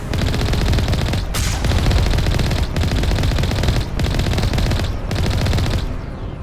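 Sustained rapid turret gunfire in the Mass Effect video game, loud and continuous with brief gaps between long bursts, no voices.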